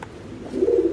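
A prize-winning racing pigeon coos nearby, a low soft warbling call that swells in the second half, with faint room noise beneath.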